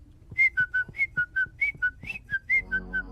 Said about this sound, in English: I'll just whistle a happy tune.